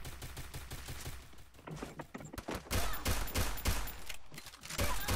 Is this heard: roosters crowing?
no